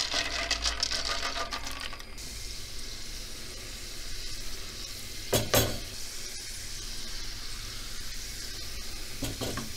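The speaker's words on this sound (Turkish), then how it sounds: "Hafif önden yağ ile kavurduğumuz zaman fıstığın aroması daha iyi çıkıyor arkadaşlar." About four tablespoons of pine nuts roasting in olive oil in a pot, with a continuous close sizzle and crackle, a brief louder clatter of stirring near the middle, and no voices.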